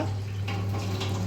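Water poured into a cooking pot of mutton quorma, a short steady splashing pour heard close up over a low background hum.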